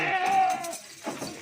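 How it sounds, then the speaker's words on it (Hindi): A goat bleats once, loud and close, a wavering cry that fades into shuffling and faint voices as goats and kids are loaded into a cargo vehicle. "और ये लास्ट में जा रही 7 नंबर बकरी और इसके साथ 2 बच्चे हैं"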